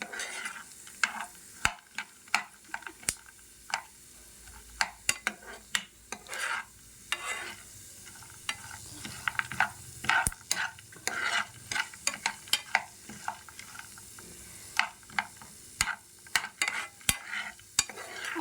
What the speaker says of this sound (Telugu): జీడిపప్పు గోల్డెన్ కలర్ వచ్చేంత వరకు వేయించుదాం